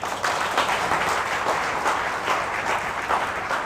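A seated audience at a business seminar bursts into strong, continuous applause, many hands clapping together at close range without any voices over it.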